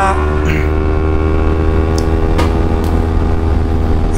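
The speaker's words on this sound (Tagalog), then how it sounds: "advantage din na maingay yung tambutso natin, para malayo pa lang naririnig na tayo" A loud motorcycle exhaust while riding, a steady, heavy droning rumble that stays unbroken and close throughout, with no talking.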